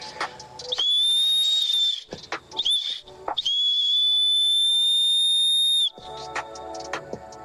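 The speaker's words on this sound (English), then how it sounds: "Do I not know how to blow a whistle?" A whistle blown several times: a sustained blast, a quick short toot, then a long steady shrill blast of a few seconds, with handling noise between.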